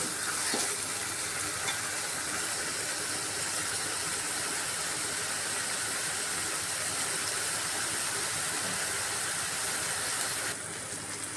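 Tomatoes and masala cooking in a pan for Kathiyawadi kaju gathia, a continuous steady sizzle and frying hiss throughout, close and fairly loud with no talking.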